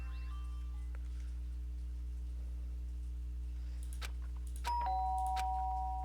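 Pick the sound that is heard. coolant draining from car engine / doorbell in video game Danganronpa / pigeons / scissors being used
doorbell in video game Danganronpa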